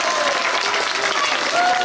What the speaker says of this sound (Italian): Applauso allo staff che ha organizzato questa cosa bellissima.